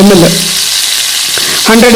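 Oil sizzles and hisses steadily in a pan while capsicum chicken is being cooked, a loud close frying crackle that runs throughout, with brief voice at the start and end.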